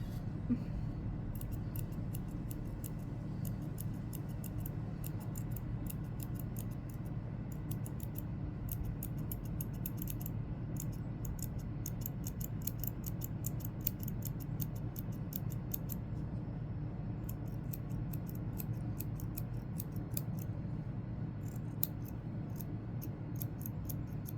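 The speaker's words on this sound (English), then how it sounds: "now it's time to trim the little baby hairs" Small scissors trim stray baby hairs off a sunglasses emoji coaster, making rapid, close, faint snips and clicks that repeat steadily over a low room hum, with no talking.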